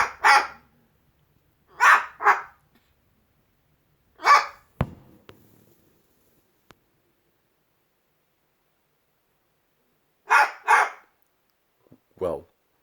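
A dog outdoors barks at the neighbors' dogs in short, sharp bursts, often in pairs, separated by quiet gaps, fairly close and clear with little else around.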